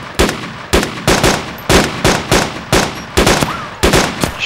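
Rapid gunfire in the survival game DayZ, a string of about nine sharp, loud shots at a steady rhythm of roughly two per second, each with a short decaying tail, close and with no talk over it.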